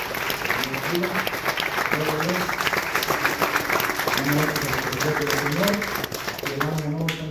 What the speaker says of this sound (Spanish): Un aplauso, hermano Héctor.